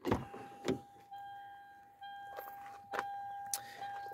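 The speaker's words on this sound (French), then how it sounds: "ça va nous gonfler ce bruit là pour dire que les clés sont sur le contact" A steady electronic key-in-ignition warning chime rings inside a Toyota Avensis T25, joined by a few clicks and thumps of handling nearby.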